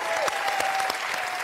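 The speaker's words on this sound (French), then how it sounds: "Applaudissements pour Sylvie." Studio audience applauding a contestant on a French television game show, a brief, loud, even burst of many hands clapping with a steady tone running underneath.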